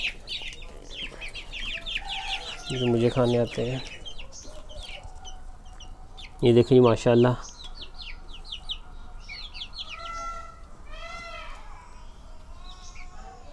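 Chickens on a small farm cluck and chirp eagerly at feeding time after a windstorm, with bursts of loud clucking between steady cheeping, while someone talks nearby.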